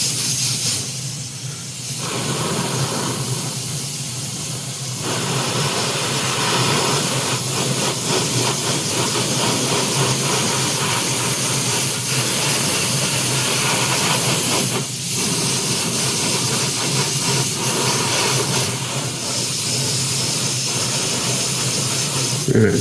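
Continuous close hiss of spray paint being applied to 1/5-scale model figure parts, a steady airy rush broken by a few short pauses between passes.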